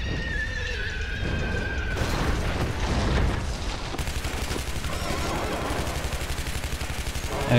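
Gunfire pounds at a boss's wing in Shadow Warrior, rapid heavy shots and booms layered over a creature's shrieking cry and loud battle noise.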